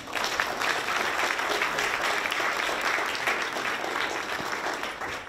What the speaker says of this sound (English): Let's have a round of applause for the panel.